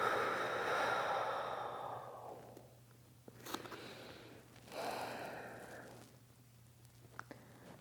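A slow, soft exhale during a home yoga flow, heard as two breathy sighs a few seconds apart over a low steady hum, close and quiet.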